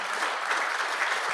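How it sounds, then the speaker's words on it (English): An audience applauding a panel at an evening policy event, with dense, even clapping that stays steady through the short burst and has no talk over it. "Please join me in applauding this panel for their contributions this evening"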